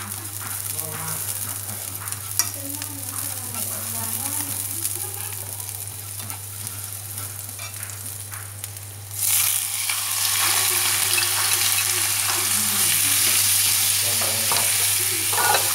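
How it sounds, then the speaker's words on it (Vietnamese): Shallots sizzle steadily in hot oil in a pan, then liver drops in and the frying surges louder and brighter, with stirring scrapes through a continuous close-up sizzle. "Các bạn cứ phi đến khi hành chúng ta nó thơm và nó chuyển hình sang cái màu hung hung thì chúng ta sẽ cho gan vào để xào các bạn nhé."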